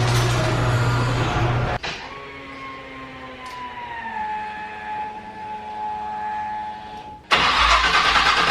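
A K30 trail-build truck engine cranks and runs loudly, cuts out, leaving a steady whining tone for several seconds, then abruptly roars back to life up close.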